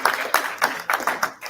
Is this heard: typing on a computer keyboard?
no